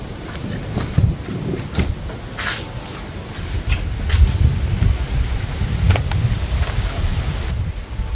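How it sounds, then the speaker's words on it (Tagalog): Strong wind roars steadily against the microphone, with low rumbling buffeting and occasional sharp gusts or knocks throughout. "Yan, napakalakas ng hangin guys."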